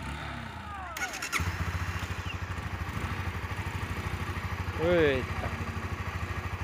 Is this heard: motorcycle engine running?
yes